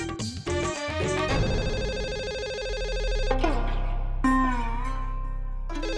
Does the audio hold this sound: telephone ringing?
yes